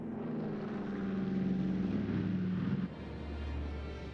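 WWII aircraft engines on D-Day, 6 June 1944, over Normandy as bombers head out: a steady, loud propeller drone with a throbbing hum, which drops to a lower, smoother rumble near the end.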